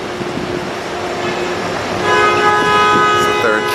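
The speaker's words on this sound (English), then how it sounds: "There's another train, I'm gonna tell you." A train rolls past along elevated tracks in Harlem, New York City, a steady rumble building and growing louder partway through, with squealing wheel tones near the end.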